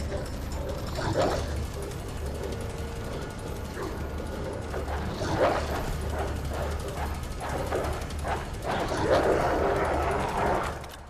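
Dogs barking in the survival horror game Resident Evil 2, several sharp bursts repeating over a steady mechanical game soundscape with grinding, ratchet-like noise, fairly close and loud throughout.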